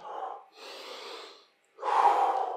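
Heavy breathing during a leg, glute and core workout without jumps: three loud breaths in a row, a short exhale, a longer one, then a strong forceful gasp, close to the mic.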